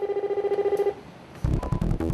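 A telephone rings in a fast warbling trill for almost a second at a Sokcho maritime police rescue control room during an emergency drowning report drill, followed by a short pause and then louder clattering sounds.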